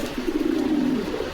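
Fancy Rajshahi jhoppa mujala pigeons coo at a pigeon market, one low, continuous throaty coo rolling steadily for about a second with soft background noise.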